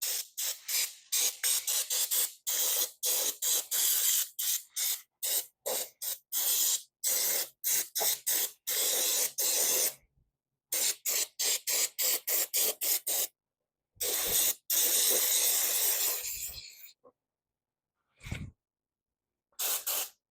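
Short hissing bursts of contact cleaner sprayed onto a part from a 1979 Kawasaki KZ400 motorcycle, dozens of quick close-up blasts in a fast irregular rhythm, then a few longer sustained sprays with brief pauses between.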